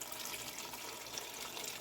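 Hot liquid is poured by hand, without a ladle, for a rabbit stew with potatoes and onions, giving a faint, steady, even splashing wash with no talking.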